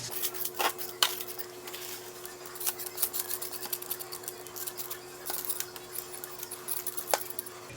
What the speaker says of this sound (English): Now what we're gonna do is just scrape all of this salt off and push it to the side